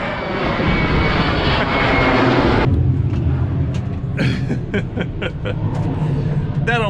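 Near a Sint Maarten airport, a fixed-wing airplane roars low overhead, loud and close, then fades while people chatter and react in the background.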